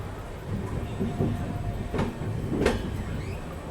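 Sleeper class train on the Ranthambore Express running near Nagda Junction, a steady rolling rumble with a few sharp clacks and squeals from the carriage, close and loud, with no talking.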